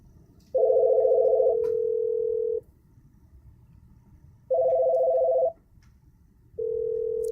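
A telephone call rings out in a repeating two-tone cadence, long steady tones broken by pauses, clear and moderately loud with no talking.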